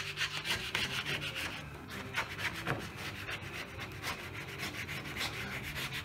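A card rubs lettering transfer onto a car door of a hot rod or rat rod, making a continuous scratchy, rasping friction sound that stays close and steady throughout.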